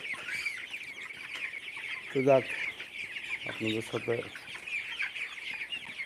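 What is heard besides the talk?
broiler chickens clucking on a farm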